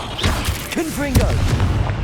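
A Confringo spell blast in Hogwarts Legacy, a booming burst that briefly rises out of continuous game noise, with a shouted voice over it.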